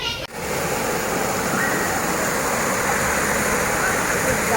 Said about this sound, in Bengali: কারণ জলের খুব আওয়াজ